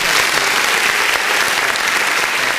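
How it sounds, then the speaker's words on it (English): A canned applause sound effect plays during a podcast, a loud, dense burst of crowd clapping and cheering that runs continuously without any talk over it. "There he goes again with the choppy applause."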